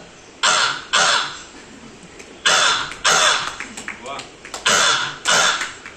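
A voice imitates crows cawing: loud, harsh caws in pairs, with short pauses between the groups, performed on a stand-up comedy stage.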